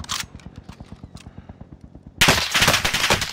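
Video-game gunfire: a steady run of evenly spaced single shots, then a sudden loud burst of dense, overlapping automatic fire with heavy crackle, close and without talk.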